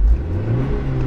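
A Nissan Skyline accelerates on an unrestricted motorway, its engine droning in a steady low hum with rising tone under loud road and cabin rumble, no voices.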